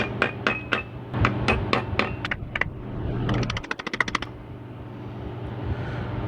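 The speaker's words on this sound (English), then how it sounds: "It's just a little nail, and that's what holds your linkage in. Kind of tap it back in there." A small linkage nail being tapped into a GM 4L80e transmission case, with a quick series of sharp metallic hammer taps, then a faster cluster of light ringing strikes, close and loud.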